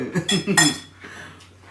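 Pots, pans and utensils clink a few times in quick succession at home while cooking, close and fairly loud, then fade to quiet kitchen background.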